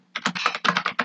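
Code is typed on a computer keyboard in a quick, close burst of about nine clicky keystrokes, clear and alone.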